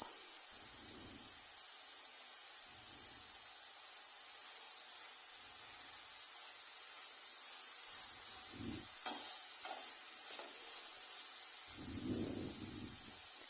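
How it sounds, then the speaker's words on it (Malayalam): Fish curry masala sautéing in coconut oil, a steady bright sizzle that runs the whole time, with occasional soft stirring and scraping sounds in the pan. "വെളിച്ചെണ്ണ ഒഴിച്ചാണ് വഴറ്റിയിരിക്കുന്നത്."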